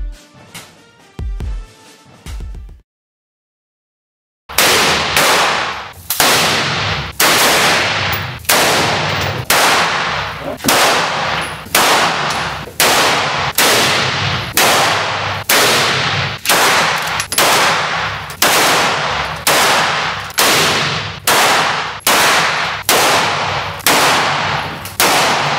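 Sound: gunshots from firearms at a shooting range

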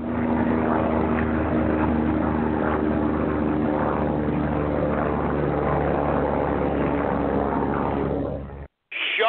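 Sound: helicopter flying

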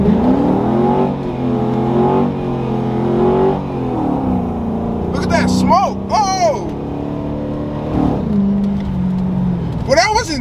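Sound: 2007 Chrysler 300C launching with wheelspin

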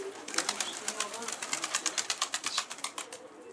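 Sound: stray pigeon flying in, wings flapping

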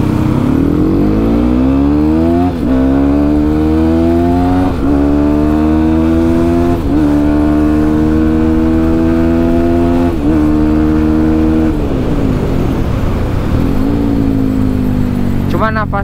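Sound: motorcycle engine revving with changed gearbox

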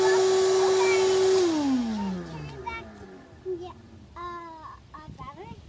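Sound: vacuum cleaner cleaning a truck

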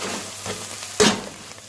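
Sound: frying salt, red chili, turmeric with garlic and ginger

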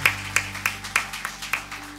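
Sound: applause

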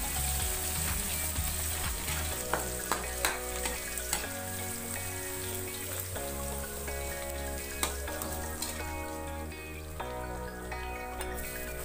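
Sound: sautéing garlic in a pan while stirring

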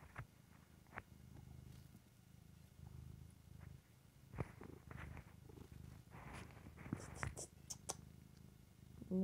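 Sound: cat purring

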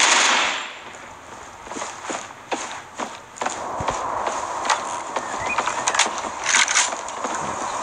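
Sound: gunfire from the video game Critical Ops

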